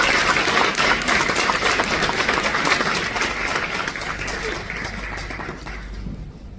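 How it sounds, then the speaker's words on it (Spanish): Audience applause at an international obstetrics congress in Paraguay, a dense wash of clapping that starts strong, stays steady, then thins and fades near the end. "Y que ese aplauso sea más fuerte para Cintia."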